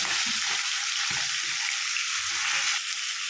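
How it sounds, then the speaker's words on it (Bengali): Bata fish frying in hot oil on the second side make a continuous, even sizzle close up, with a few soft stirring knocks beneath and no voices. "এবার আমি একইভাবে উল্টো সাইডটাও ভেজে নেব।"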